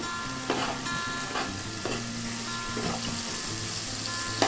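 Tomato frying with ginger, garlic, onion and turmeric for a Bengali raw jackfruit curry, a steady close sizzle broken by about five scraping stirs of a spatula against the pan at regular intervals.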